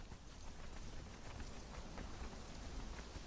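Steady in-game rain pours as a dense, even hiss with a low rumbling undertone, continuous and fairly close throughout, with no voices.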